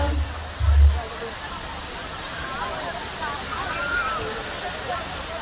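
At a waterfall in Palakkad, water rushes in a steady, even roar that fills the whole scene, with a brief low thump early on.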